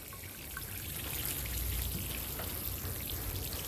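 Water pours into an 18-gallon self-watering tote container, a steady close splashing trickle that continues throughout with no talking.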